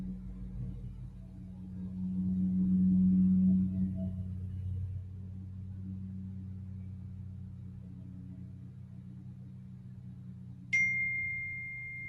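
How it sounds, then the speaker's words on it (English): A single sharp chime rings out clearly near the end, standing alone above a low, steady hum of background traffic. "there's like the ding alert as well"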